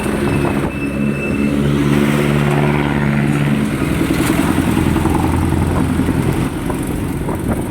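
Heavy road traffic in the Philippines, with cars and motorcycles rumbling and revving close by in a loud, steady wash of engine noise and clatter, and no talking.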